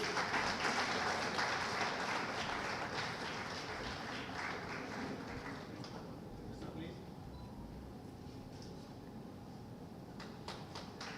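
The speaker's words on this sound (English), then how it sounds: "Can we have a huge round of applause," An audience at an annual business meet giving a round of applause, sustained crowd clapping heard from a distance that thins out partway through, with faint voices in the room.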